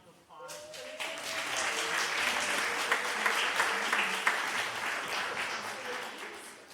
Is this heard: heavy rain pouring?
no